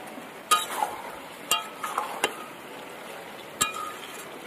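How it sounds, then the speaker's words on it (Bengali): A metal lid lifted off a pot of chicken curry with potatoes, giving a few sharp clinks and clanks spaced over several seconds against a low sizzle of frying, close by, with no talking. "ঢাকনাটা এবার খুলবো।"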